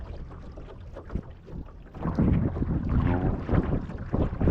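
Wind buffets the microphone as a small electric boat motor runs with a low, steady drone, water rushing along the hull.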